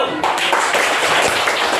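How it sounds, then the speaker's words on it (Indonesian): Students in a classroom clapping for a group, a close, loud, continuous patter of hands across the whole moment, with some voices mixed in. "Tepuk tangan untuk kelompok Q."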